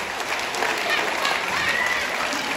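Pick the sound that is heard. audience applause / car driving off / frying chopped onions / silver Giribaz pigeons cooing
audience applause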